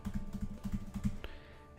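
Quick keystrokes on a computer keyboard as dummy credit card details are entered, a short burst of soft clicks followed by a single sharper tap, quiet and close with no voices.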